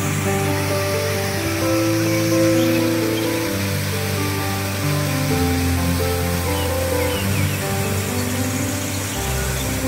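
The Banyu Tibo waterfall in Pacitan roars with a dense, continuous rush of falling and splashing water, loud and close throughout, with no voices heard.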